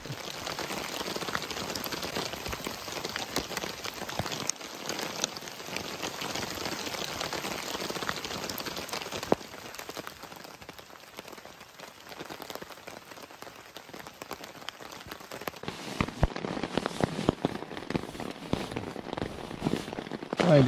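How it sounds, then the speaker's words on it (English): Rain falls steadily on a tent during a wilderness canoe trip in Algonquin Park, a close, continuous patter with sharper drops and rustling near the end. "so raining outside in the tent here"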